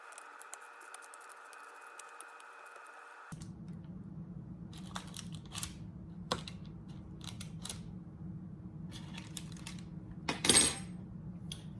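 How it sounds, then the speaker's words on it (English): A fork pressing into soft cornstarch cookie dough on a baking tray: scattered small metallic taps and clicks, close and quiet, after a short stretch of background hum. "I'm gonna take a fork and I'm gonna press them down"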